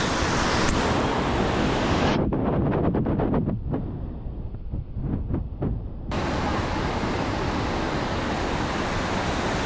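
Constant rushing of a flowing river in the Altai mountains fills the scene, loud and broad, briefly dropping away into quieter clicks before returning.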